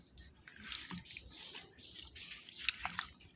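New potatoes are washed in water, quiet splashing and dripping with soft knocks of the potatoes in a bowl, faint and close.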